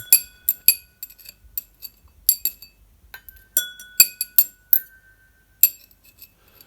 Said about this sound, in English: Glasses being pushed around. Glasses being played with a screwdriver.